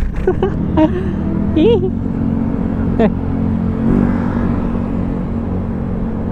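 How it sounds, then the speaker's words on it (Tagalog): Several motorcycles rumble along a road close by, engines droning and revving as they pass, heard under people talking excitedly. "Daming motor."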